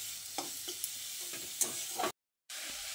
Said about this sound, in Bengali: লো টু মিডিয়াম ফ্লেমে 2-3 মিনিট সময় ধরে বিটটাকে এইভাবে কষিয়ে নেব